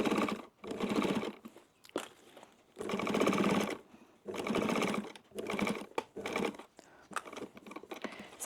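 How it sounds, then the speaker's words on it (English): A 70-year-old Pfaff sewing machine stitches along the edge of a wallet in bursts of rapid mechanical whirring, each run lasting about a second, separated by short pauses, close and loud. "And we're going to sew along there, not sewing through the middle,"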